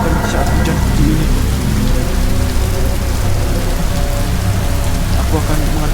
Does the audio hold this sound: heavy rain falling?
yes